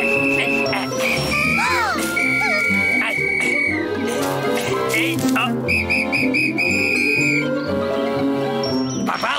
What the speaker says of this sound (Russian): это я понял, как свистеть